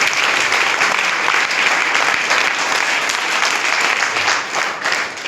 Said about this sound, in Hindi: ताली बजाओ इस अवसर के।